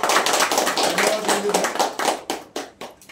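A crowd at a party office gathering claps to welcome new members joining Shiv Sena, a dense patter of hands that turns into sparser, distinct claps, with a voice over the start.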